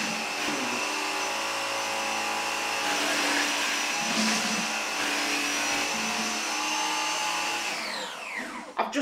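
A Gtech Air Ram cordless vacuum cleaner runs with a steady high motor whine held at one pitch, close and loud, then winds down near the end with a few clunks.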